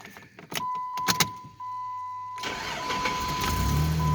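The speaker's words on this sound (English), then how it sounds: "let you guys listen to this thing start up" A 2006 Jeep Grand Cherokee engine cranks and catches after a few door or cabin clicks, then settles into a steady close-up idle that rises slightly toward the end.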